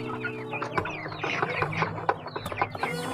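Chickens on a farm raised without vaccines cluck and chatter continuously, several birds close by making short repeated calls over a low steady background hum, with no talking.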